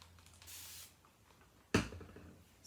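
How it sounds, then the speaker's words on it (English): A water spray bottle misting hair gives one short, soft hiss of spray, followed a moment later by a brief knock as the bottle is handled nearby. "just make sure you spray it down with a water spray"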